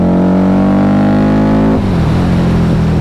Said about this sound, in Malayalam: നല്ല ഹൈ റെവിങ് ആയിട്ടുള്ളൊരു എൻജിനാണ് ഇത്